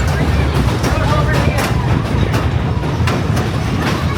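A Great Smoky Mountain Railroad train rolls across a bridge over a lake with a steady, loud clickety-clack and rumble, as a voice talks over it.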